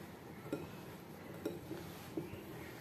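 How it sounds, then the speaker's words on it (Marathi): Modak mixture with cardamom powder and powdered sugar being mixed by hand in a bowl: faint, sparse clinks and taps of the bowl, about four soft knocks spaced irregularly over quiet room tone. "आणि आता आपण हे मिश्रण मिक्स करून घ्यायचं आहे हाताने।"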